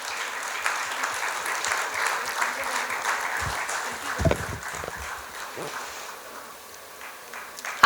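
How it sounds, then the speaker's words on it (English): A crowd applauds the speakers at the end of a DBMF 2026 session, a steady, moderate patter of clapping that gradually thins and fades, with a few louder bursts in the middle. "Let's have a round of applause"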